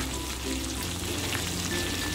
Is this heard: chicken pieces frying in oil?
yes